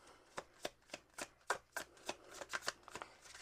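A deck of playing cards being shuffled by hand: a quick series of crisp riffling snaps and flutters, close and fairly quiet, repeating in an uneven rhythm.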